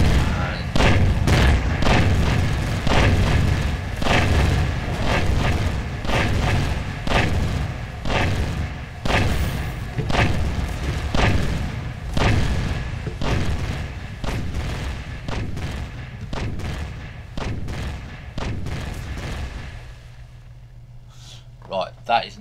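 Turret guns firing in the space survival game Empyrion, a long series of heavy booming shots at a fairly regular rhythm, loud and close, with someone talking over them before the firing stops near the end.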